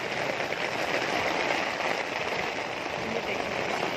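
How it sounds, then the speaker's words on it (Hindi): Heavy rain falls steadily on a home garden, a dense, even hiss filling the whole clip with no pauses or distinct drops standing out. "बारिश काफ़ी तेज़ हो रही है और मौसम भी बहुत ही खुशगवार लग रहा है।"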